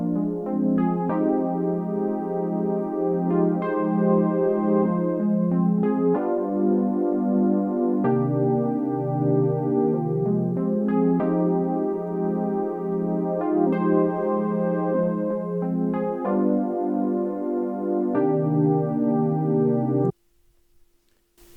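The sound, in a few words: R&B sample chord progression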